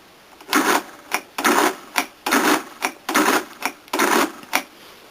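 A Friden electro-mechanical calculator runs repeated additions, producing loud, close mechanical clattering bursts in a regular rhythm, each a whirring clack cycle followed by a short pause.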